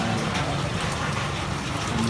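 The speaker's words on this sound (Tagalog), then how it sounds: "Silong sa tadere guys, kay ulan." Heavy rain pours steadily outdoors, a dense, loud hiss of drops on surfaces that fills the clip without a break, with a faint low rumble beneath.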